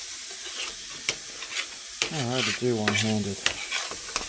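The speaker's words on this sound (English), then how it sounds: "we're just going to stir this all in there real good" Palak paneer ingredients of spinach and paneer are stirred and cooked in a pan, with sharp scraping strokes and a steady sizzle while someone talks over it in the middle.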